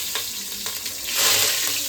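Curry leaves, bay leaves, cumin, mustard seeds and whole spices sizzle and crackle steadily in hot oil for biryani, a loud close frying hiss that swells briefly as more goes in.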